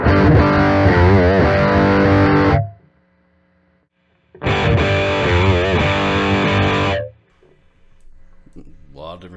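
Electric guitar played through a Mooer Radar speaker cab simulator: two loud, distorted strummed passages with chord bends, separated by a short silence, then a faint trailing note.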